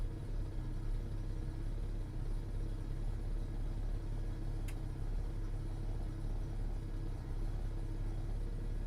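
A V8 engine fitted with Sniper 2300 fuel injection idles in gear, a steady low rumble throughout, with one brief faint tick partway through.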